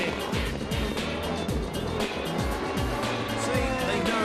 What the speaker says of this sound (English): The Zolder racetrack, and thankfully for the driver, another cheap and relatively harmless spin